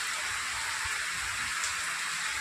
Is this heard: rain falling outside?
yes